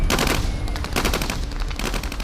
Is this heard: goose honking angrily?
no